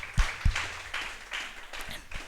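Scattered hand claps from a church congregation during a Hindi sermon, a few loud sharp claps at first followed by softer uneven clapping at moderate distance.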